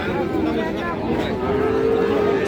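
A young Gir heifer calf of about six months moos in one drawn-out, wavering call at a livestock market, close and clear, with people talking around it.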